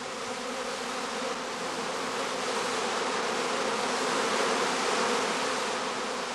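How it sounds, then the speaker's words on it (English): A dense honeybee swarm around a straw skep hums in a steady, loud, unbroken buzz close by, with no voices. "On the branches, swarming bees soon form a new cluster again."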